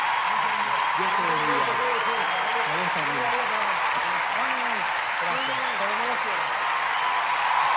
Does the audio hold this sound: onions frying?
no